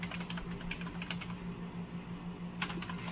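Typing on a computer keyboard, quick uneven bursts of soft close key clicks with a short pause in the middle, over a low room hum.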